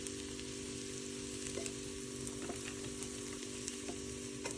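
Rice fries in a pan over a medium gas flame, giving a faint, even sizzle with occasional light clicks of stirring, with no one talking.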